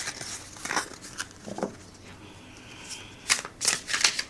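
Overhand shuffling of a small 34-card oracle deck, soft intermittent card riffles and slaps, quiet at first, then a few crisper bursts near the end.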